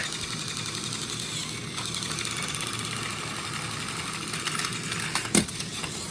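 A small electric motor in a Plarail toy train whirs and buzzes continuously with a steady mechanical hum and rattling vibration, followed near the end by a single sharp click.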